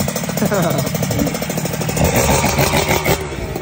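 A motorcycle engine revving through its exhaust pipe, a loud near rumble that swells and eases in repeated throttle blips, with someone talking over it.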